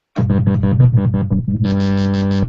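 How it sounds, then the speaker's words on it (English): A buzzy synthesizer in duo mode, two LFOs switching oscillator 2 on and off and modulating its octave, plays a rapid pulsing pattern that shifts pitch, then jumps into a steady, brighter trembling tone, loud and alone. "one LFO is modulating OC2 on and off, and the other is modulating the octave of oscillator 2"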